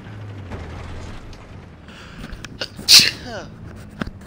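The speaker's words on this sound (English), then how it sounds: "Oh, I gotta sneeze, I feel it." A single sharp sneeze bursts out midway, loud and brief, among clicking and creaking mechanical game sounds from Battlefield 4.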